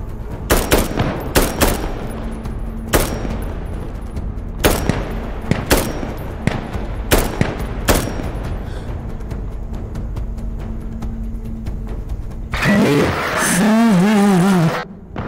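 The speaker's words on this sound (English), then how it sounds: "Randolph, we're getting shot at." Bursts of gunfire in the shooter game Insurgency: Sandstorm, loud and close, arriving as sharp volleys separated by gaps, with a low mechanical drone underneath and a voice speaking near the end.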